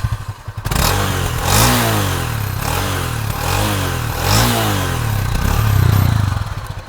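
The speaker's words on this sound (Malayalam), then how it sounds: "നമുക്ക് ഇതിൻ്റെ എക്സോസ്റ്റ് ഒന്ന് കേട്ട് നോക്കാം അല്ലേ." A Honda CB300F single-cylinder motorcycle with fuel injection and a single exhaust runs close by, its note rising and falling through several throttle blips over a steady idle, loud and alone with no talking.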